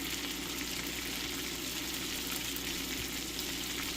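Kirkland Signature garlic butter shrimp sizzle steadily in a hot pan, a continuous crackling hiss at a fairly low level with no voices.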